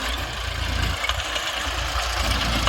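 A tractor drives a rotavator through wheat straw in a field, its engine a steady, loud, low rumble with rough vibration running throughout, no voices over it.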